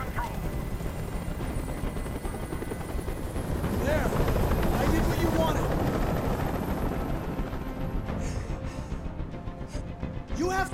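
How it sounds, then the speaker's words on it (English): Helicopter hovering nearby in Detroit: Become Human, its rotor drone filling the whole stretch and swelling in the middle, with a voice briefly cutting through near the end. "I can't stand that noise anymore! Tell that helicopter to get out of here!"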